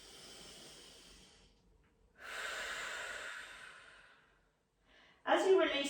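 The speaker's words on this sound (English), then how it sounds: "Big, deep inhales and exhales." Deep yoga breaths heard close and alone: a long exhale fading out, a strong drawn inhale, a pause, then a loud forceful breath at the end.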